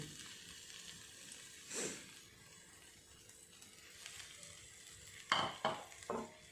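Potato and capsicum pieces in a pan give a faint, steady fry under a few louder stirring scrapes and clinks, one near the start and a quick cluster toward the end, with no talking.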